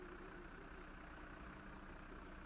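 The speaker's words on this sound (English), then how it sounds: "I'm loving the engine sound." A Mercedes-Benz truck in the video game SnowRunner idles with a steady, low engine rumble that holds at an even, fairly quiet level throughout.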